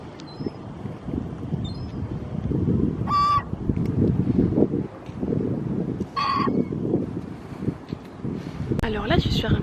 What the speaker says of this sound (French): Et là-bas on a donc le fleuve Saint-Laurent avec les mouettes